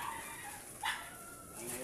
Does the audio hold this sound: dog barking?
yes